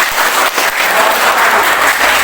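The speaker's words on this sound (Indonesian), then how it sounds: "Bagus sekali, tepuk tangan untuk Charles" Classroom applause for a student during a mathematics lesson, a loud dense burst of clapping from a group that runs steadily for a couple of seconds.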